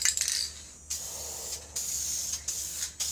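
A spray gun lays a coat of lacquer in short, close hissing bursts, several in a row with brief pauses between passes, over a low steady hum.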